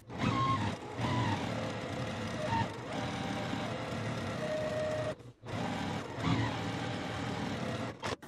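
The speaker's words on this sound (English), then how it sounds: "let's take all of our fabric over to our machine and get started sewing" A home sewing machine runs steadily while chain piecing quilt fabric strips, a continuous whirring hum with a short pause midway before resuming.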